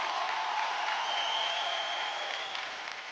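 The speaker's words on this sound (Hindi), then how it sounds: "एक बार जोरदार तालियां for अनिल कपूर सर" A studio audience on a Hindi TV game show applauds for Anil Kapoor, a steady dense wash of clapping at moderate volume that tapers slightly toward the end.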